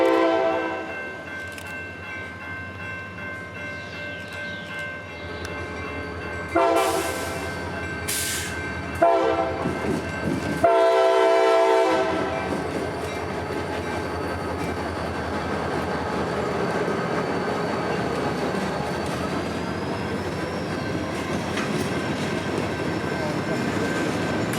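A CSX freight train rumbles past in Central Florida with a few short horn blasts early on, then a steady rolling roar of railcars continues, moderately close.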